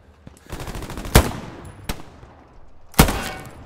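Gunfire in the World War II shooter Post Scriptum rings out as a few sharp, loud single shots spaced about a second apart, each with a ringing echoing tail, over quieter distant battle noise.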